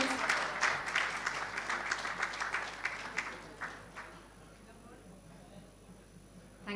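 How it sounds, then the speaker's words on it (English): Applause from an audience at a ceremony celebrating India and Bangladesh friendship, with High Commissioners present. Dense clapping starts strongly, then thins into scattered claps and fades out over several seconds. "a huge round of applause for the sisterhood, our two wonderful High Commissioners"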